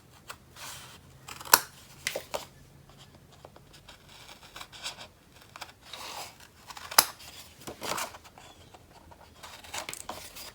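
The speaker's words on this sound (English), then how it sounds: "Once the tape is on, it's easier to turn it over to trim corners." Scissors snip paper corners for a card-making project, with a few sharp separate cuts standing out among quiet rustling and handling of paper and tape, close and fairly soft.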